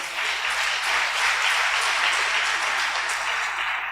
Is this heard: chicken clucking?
no